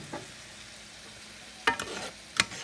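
Vegetables sautéing in soy sauce for Jamaican-style jerk chicken give a low, steady sizzle, broken by two sharp scraping clatters from a utensil stirring the pan near the end.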